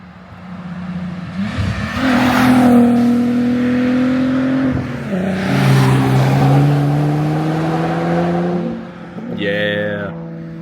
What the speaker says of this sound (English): I think I hear another car coming up.